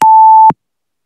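A single steady electronic beep from a quiz countdown timer, loud and held for about half a second before cutting off, leaving silence after it.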